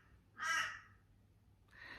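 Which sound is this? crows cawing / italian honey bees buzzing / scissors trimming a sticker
crows cawing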